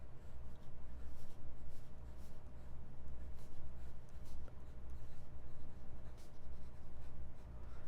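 Broad-nibbed Pilot Parallel calligraphy fountain pen scratching across paper, a soft continuous rasp of close strokes with brief lifts between them, heard alone.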